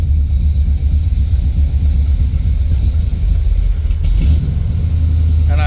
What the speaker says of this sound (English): I turned on the AC, it started to bog the motor, then I blipped the throttle